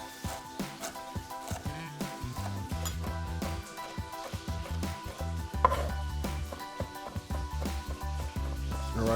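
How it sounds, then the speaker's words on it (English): A knife mincing fresh ginger on a cutting board while cooking a Szechuan shrimp and chicken stir fry gives soft, irregular chopping taps, partly buried under steady background music. "So I'm gonna mince up, a teaspoon or so of ginger"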